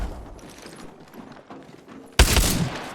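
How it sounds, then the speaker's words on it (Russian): Video game gunfire aimed at the player: a quiet, busy background gives way to a sudden loud burst of shots near the end that rings briefly before fading. "В меня стреляют."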